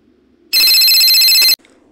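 A telephone bell rings in one very loud, piercing, continuous burst lasting about a second, breaking out of near silence and cutting off abruptly.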